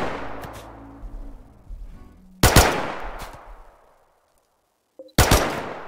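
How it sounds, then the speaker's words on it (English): Video game gunfire in a mountain base-building game: a few machine-gun bursts and sharp single shots ring out loudly, separated by gaps of near silence. "You can shoot me all you want."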